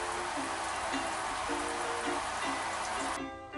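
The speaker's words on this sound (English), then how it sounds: "Those raindrops are falling on my head." Rain falling in a steady, dense patter that fills the whole stretch, with faint tonal sounds running underneath, and the wash breaking off abruptly near the end.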